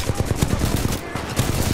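Rapid automatic gunfire rattles in quick bursts during a Titanfall 2 match, loud and close with a short gap midway before the firing resumes.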